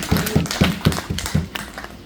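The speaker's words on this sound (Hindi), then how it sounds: "मैं चाहूँगा सब जोरदार तालियां" Applause from an audience at an address to a service organisation in Dabwali, heard as about six sharp, evenly spaced claps ringing out over roughly two seconds, close and fairly loud.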